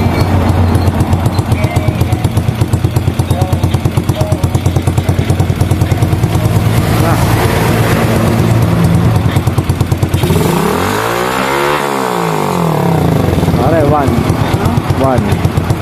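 A Suzuki Smash motorcycle engine with an adjustable 4-pin CDI runs close by with a loud, rapid single-cylinder putter, then swoops through a rev that rises and falls before settling back to a steady idle.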